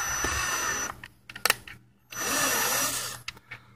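A power drill whines in sustained bursts, starting and stopping twice, close by with brief pauses and small clicks between runs; a 1/4-inch bit drilling holes in a Dodge Charger bumper.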